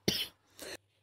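Two quick, close coughs from a woman suffering from a cold, the first harsher and the second softer, with quiet in between.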